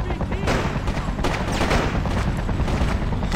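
Rapid, loud video game gunfire in Freedom Fighters, with overlapping automatic bursts and booming shots that persist densely throughout, alongside voices.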